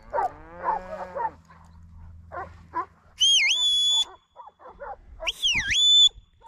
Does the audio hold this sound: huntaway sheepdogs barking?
yes